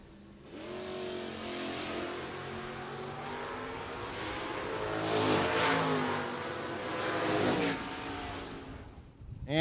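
A Camaro and a Gen 3 Hemi-powered Dodge Aspen hot rod drag racing at a no-box shootout: loud, sustained engine roar with revs repeatedly climbing, building toward the middle, then cutting off abruptly near the end.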